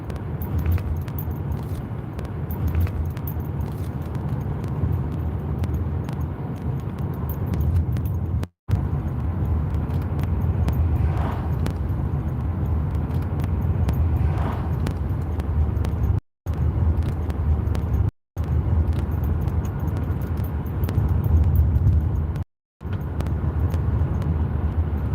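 A car drives along a remote rural road, its steady engine and road rumble loud and close throughout, with a faint rattle and a few brief dropouts in the sound.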